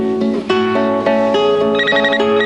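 A Nokia mobile phone rings in a 1994 French TV commercial, a bright electronic ringtone melody of repeated short beeping notes, close and clear, with no talking over it.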